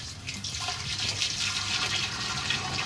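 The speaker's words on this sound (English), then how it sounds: "all you really need is a quart or so dumped in there" Cleaning liquid is poured into a paint sprayer after sealing work, giving a steady, soft splashing and gurgling stream close by for a few seconds with no voices.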